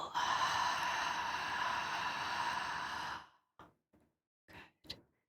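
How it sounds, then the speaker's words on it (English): A long, steady exhale blown out through the mouth during a guided meditation, lasting about three seconds, close and airy, followed by a few short soft breath sounds with pauses between. "Exhale again through your mouth."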